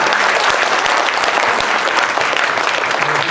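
Steady, dense applause from a church congregation at an evangelism seminar, honoring the evangelism explosion trainers as they stand, sustained and even throughout with no talk over it.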